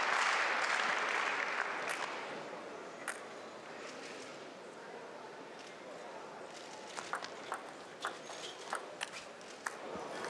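Crowd at a women's singles table tennis final applauds in a large arena, a broad wash of clapping that swells early then fades, followed by scattered sharp sounds and occasional isolated claps.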